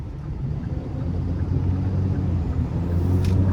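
A Cummins diesel-swapped Ford truck with a new torque converter accelerating at part throttle, a steady low rumbling drone that swells slightly over a few seconds with no voices.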